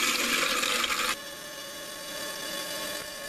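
Water rushes loudly into a toilet tank and bowl after the supply is turned on, a steady hiss that drops to a quieter, continuous trickle as the tank keeps filling.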